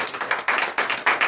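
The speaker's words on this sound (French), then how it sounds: "Donnez l'acclamation à Jésus." Church congregation clapping during a morning prayer service, a dense burst of many hands in uneven rhythmic waves, fairly loud and close, with no voices over it.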